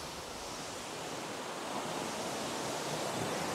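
Kitakai Falls, a tall waterfall near Auckland, sends out a soft, even roar of falling water heard from a distance, steady and fairly faint with no talking.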